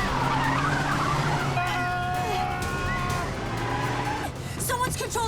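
A car speeding in reverse down a motorway, tyres skidding and squealing in long wavering screeches over a loud engine roar, with a sharp crackle of tyre noise near the end.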